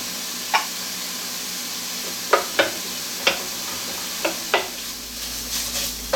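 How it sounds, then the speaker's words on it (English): Onions go into a cold pan with canola oil and are stirred, giving sparse, sharp scraping clicks spaced a second or so apart over a low steady hiss, close by. "then we're going to add the onions to the cold pan"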